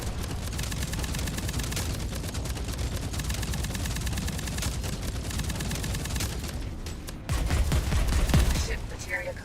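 Rapid, continuous gunfire from ships in a space combat game, a dense unbroken barrage at steady loudness that swells heavier near the end, with a voice briefly under the shooting.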